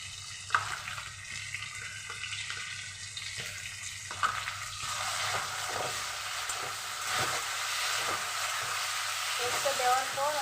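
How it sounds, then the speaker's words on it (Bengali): Spice paste fries with potatoes in a pan for banana flower curry, a steady sizzle broken by scraping stirs and clinks, with occasional running water nearby. "পেস্টটা দেওয়ার পর আমি এবার কিছুক্ষণ কষিয়ে নেব।"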